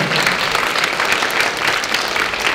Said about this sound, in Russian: А, аплодисменты.